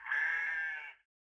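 Sheep bleat from a recordable model railway sound module: a single loud, sustained electronic bleat lasting about a second, then abrupt silence.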